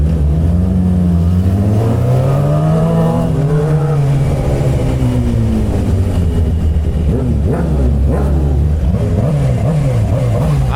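A Suzuki GSX-R 600 motorcycle ridden through city streets, its engine loud and close, revving up and down in repeated surges with wind noise behind it.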